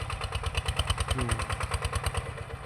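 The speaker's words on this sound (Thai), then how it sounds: "รถเพิ่นกำลังมาถึง" A farm truck's engine at a cassava harvest in Laos, chugging in a steady, rapid rhythm close by and holding a fairly even level throughout, with no talking.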